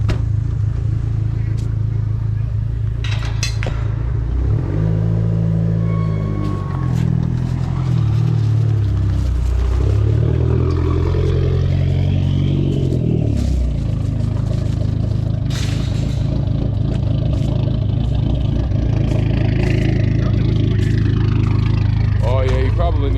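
A front-wheel-drive Dodge SRT-4 engine runs loud and steady, its low rumble rising and falling through a couple of revs, with people talking over it throughout.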